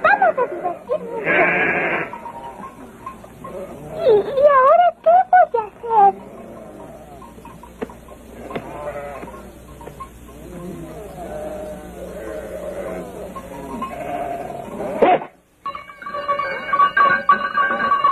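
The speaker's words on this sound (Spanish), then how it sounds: "¡Vayan a casa, cabritas!" A herd of goats bleats repeatedly while being driven home, the wavering cries scattered over continuous Spanish talk and calling, with a louder burst of noise near the end.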